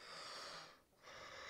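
A person yawns during a gaming session: one long, breathy exhale close to the microphone that dips briefly to near quiet, then swells back with a second airy breath.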